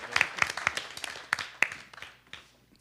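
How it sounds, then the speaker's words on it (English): Sparse applause from a small audience at a business startup competition finale. Scattered individual claps ring out unevenly, fairly faint and fading toward the end. "Can we get a round of applause,"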